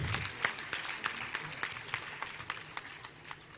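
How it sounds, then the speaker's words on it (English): Scattered, fairly faint clapping comes from a crowd at a World Milk Day dairy event, honouring young children, with irregular claps over a soft background murmur. "please can you clap for these our young children?"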